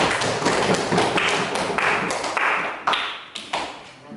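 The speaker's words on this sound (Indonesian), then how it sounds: "Oke, tepuk tangan buat kita semua." Classroom students clapping hands together in a school lesson, a dense burst of close claps with a few louder slaps standing out as the clapping trails off near the end.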